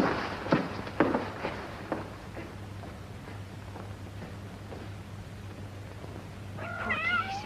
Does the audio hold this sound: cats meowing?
yes